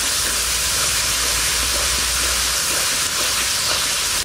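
Whisked sour yogurt goes into a sizzling pan of mustard-oil-fried spice masala for a village-style chicken curry, a loud continuous hissing sizzle that fills the clip and stops abruptly at the end.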